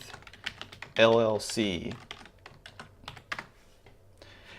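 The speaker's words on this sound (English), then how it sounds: "let's just say we type in" Keystrokes on a computer keyboard typing in a name, a quick patter of clicks running under someone talking, with a louder burst of voice in the middle.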